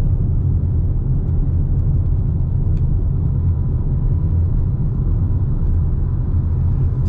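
Inside a Toyota RAV4 hybrid cruising in electric mode at 48 km/h, a steady, loud low road and tire rumble with a faint whir persists evenly throughout, with no voices.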